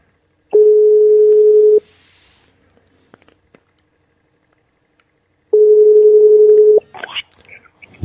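A telephone ringback tone sounds while calling someone back: two long, steady beeps separated by a few seconds of near silence, followed by a brief voice as the call connects.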